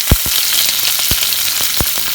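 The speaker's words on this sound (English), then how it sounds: "We add in this the ginger and the garlic which we have chopped" Chopped ginger and garlic frying in hot oil in a kadai, giving a loud, steady close sizzle broken by several sharp spatters and pops, with no voices.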